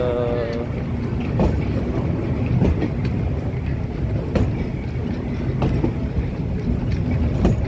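Rumbling tourist train at the Ambarawa railway museum, a continuous loud mechanical roar with clanks and hisses, a brief whistle-like tone near the start, and people talking over it close by.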